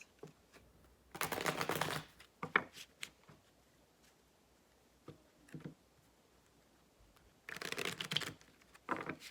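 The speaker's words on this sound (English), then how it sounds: "I'm gonna pull some more cards" Tarot cards are shuffled in two brisk, close bursts at the start and end, with a few soft taps and flicks between them as cards are pulled.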